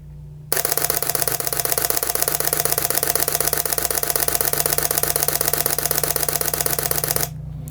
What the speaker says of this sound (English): I just wanted to show you the shutter mechanism.